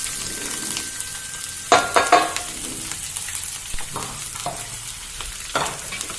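Onion, ginger, garlic and green chilli stir-fried over a high flame for a Kerala squid roast. A steady sizzle runs throughout, with a few louder spatula scrapes and clatters against the pan, and no voices.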